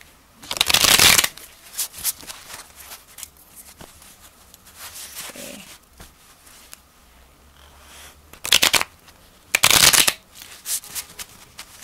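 A Mermaid Tarot deck is shuffled in several distinct loud riffling bursts, close to the microphone, separated by quieter handling and soft card rustles.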